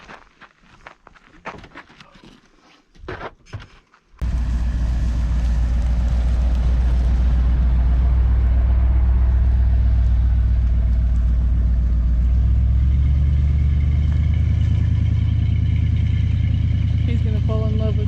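A truck engine runs steadily for most of the clip, a loud, close, low rumble that starts abruptly after a few seconds of quieter handling noise and footsteps, with faint voices under it.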